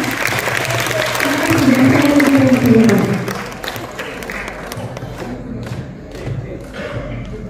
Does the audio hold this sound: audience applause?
yes